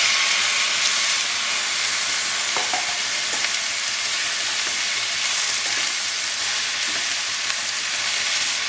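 Tomato fries in a pan with onion, giving a loud, dense, continuous sizzle and hiss, with a few faint clinks of a utensil partway through.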